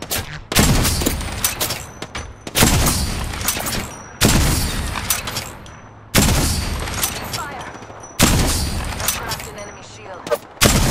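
Loud, close bursts of gunfire in the Apex Legends video game, five sustained volleys each lasting about two seconds, separated by brief gaps.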